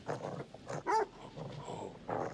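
Dog growling in the video game Resident Evil 7, a low rumbling snarl that rises into a short, sharp bark or yelp near the middle, close and fairly loud, with ambient game sound beneath.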